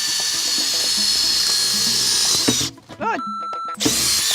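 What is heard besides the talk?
power drill drilling a hole in an RV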